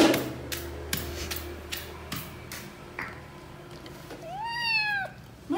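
Cats meow near the end after a series of sharp ticking taps, giving a few close, rising and falling meows over a quiet indoor background during a rainy day.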